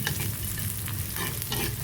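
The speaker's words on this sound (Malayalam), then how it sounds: "നമുക്കിതിലേക്ക് കൊച്ചുള്ളി ഇട്ട് കൊടുക്കാം" Small onions sizzle and crackle in hot oil with mustard seeds and fenugreek, a steady close frying hiss with light stirring scrapes and no voices.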